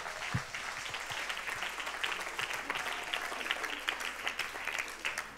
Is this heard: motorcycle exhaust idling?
no